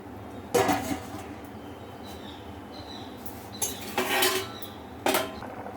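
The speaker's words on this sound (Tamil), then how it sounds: "ஒரு பத்து நிமிஷம் ஆகும் இது வேகட்டும் மூடி போட்டுடலாம்" A lid is set on a metal pot of cooking mixed-vegetable sambar, producing a few sharp clanks and clattering knocks spread apart over a quiet background.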